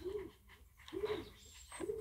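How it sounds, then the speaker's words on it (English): Birds on the island of Goeree-Overflakkee in Zuid-Holland, the Netherlands, give three low, soft coos at a slow, regular pace, faint and somewhat distant against a quiet outdoor background, with no talking. "you can probably hear it, sound of birds"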